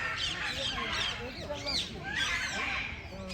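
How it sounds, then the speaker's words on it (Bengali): A flock of many geese honks and calls at a picnic spot by the water, a continuous, busy chatter of overlapping nasal cries at moderate distance, with faint voices mixed in. "প্রচুর রাজহাঁস দেখতে পাচ্ছি।"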